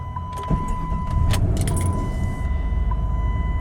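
Several sets of keys and remotes for a 1998 Jeep Grand Cherokee 4x4 jangle close by in bursts, the metallic clinks clustered in the first half over a steady low rumble, with no one speaking.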